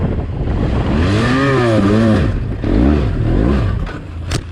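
A 500-pound adventure motorbike on a dirt hill climb revs and strains, engine pitch rising and falling in loud surges before a brief clattering knock near the end.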